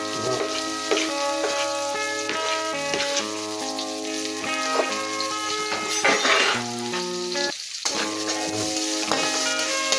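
Garlic and onion sizzle steadily in hot fat for chop suey, a loud, continuous frying crackle with stirring clinks and scrapes of a utensil against the pan.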